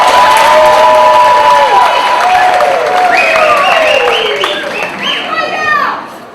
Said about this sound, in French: et applaudissez pour eux